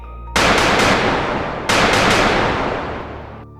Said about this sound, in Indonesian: Letusan senapan membelah udara, menggetarkan dada setiap orang yang hadir.